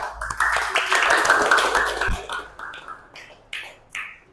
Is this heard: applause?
yes